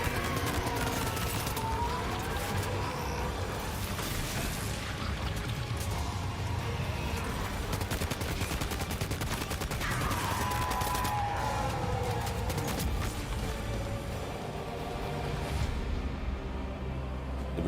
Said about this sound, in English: Norman, are you going to fire the gun or whatever?